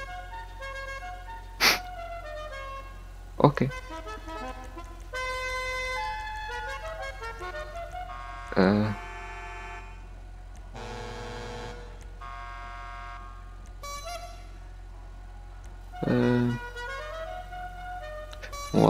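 Car horn options are cycled one after another in GTA V. The horns are short blasts and longer sustained tones of differing pitch, separated by pauses and sharp clicks, with a single brief word spoken.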